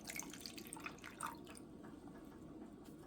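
Distilled water poured into a container on a scale while weighing out a small amount for a brightening toner, faint close dripping and trickling that fades after the first second and a half.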